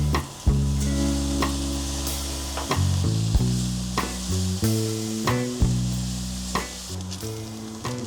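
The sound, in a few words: mushrooms, onions and garlic frying with soy sauce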